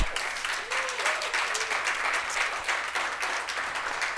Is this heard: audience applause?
yes